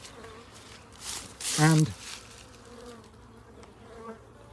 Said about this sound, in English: there you can see already guard bees